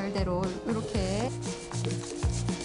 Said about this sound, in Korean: 목재의 질감을 좋게 하기 위한 사포질 작업부터 시작합니다